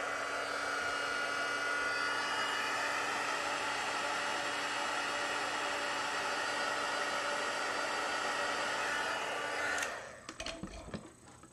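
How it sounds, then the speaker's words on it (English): A heat tool blows hot air to dry wet ink on a paper leaf, giving a steady, loud, whooshing fan-and-air roar that runs evenly, then cuts off near the end, followed by a few handling knocks. "All right, I'm going to use my heat tool. So let me grab it and try and dry this really quickly."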